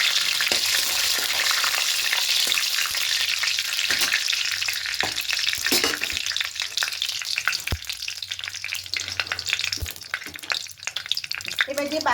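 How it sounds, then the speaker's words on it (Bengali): Whole five-spice seeds, two bay leaves and two dried red chillies frying in hot oil for shukto, a steady loud sizzle and crackle with occasional sharp pops and stirring clinks, no voices. "এবার তেলের মধ্যে দেব 5 ফোড়ন, দুটো তেজপাতা আর দুটো শুকনো লঙ্কা।"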